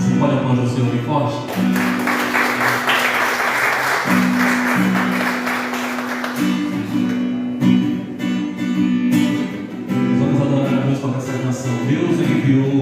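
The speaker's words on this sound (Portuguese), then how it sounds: "Você pode aplaudir o Senhor bem forte?" A church congregation claps loudly and continuously through a worship service held in a garage, the applause mixed with sustained music and voices throughout.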